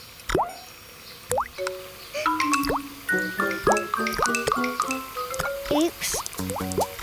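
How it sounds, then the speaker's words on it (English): Cartoon water dripping and splashing onto the floor, a run of bright, plinking drip sounds with pitched plops and gliding tones, irregular and close, over a quiet background. "The water was still going on the floor."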